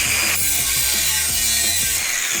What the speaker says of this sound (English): I'm gonna cut just a little slit in this 3-inch pipe.